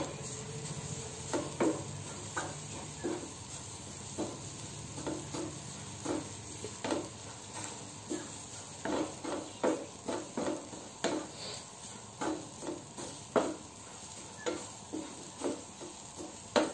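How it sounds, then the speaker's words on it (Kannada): Grated coconut with turmeric stirred and fried in a pan for sambar, a soft background sizzle punctuated by steady, rhythmic spatula scrapes and knocks against the pan, growing more frequent toward the end. "ಈಗ ಇದನ್ನು ಚೆನ್ನಾಗಿ ಮಿಕ್ಸ್ ಮಾಡಿ ಫ್ರೈ ಮಾಡೋಣ."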